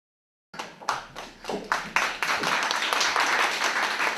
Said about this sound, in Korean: 나오실 때 큰 박수